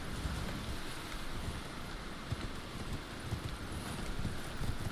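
Horse hoofbeats while riding in Elden Ring, a continuous rhythmic clopping of hooves over a windy, noisy outdoor bed, fairly steady and moderately loud.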